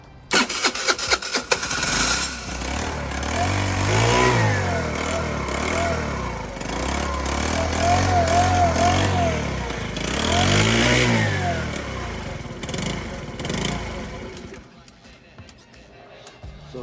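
A Taotao 49cc scooter fitted with a new carburetor fires up after a few sputtering cranks. The small engine idles and revs up and down in waves, loud and close, while a voice talks over it.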